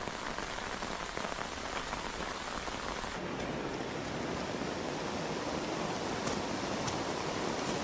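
Heavy monsoon rain pummels a taut synthetic canopy over a bamboo shelter, a dense, steady roar of drops drumming on the roof with no letup throughout.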